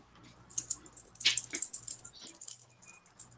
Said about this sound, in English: It's actually a zipper that fell off a jacket.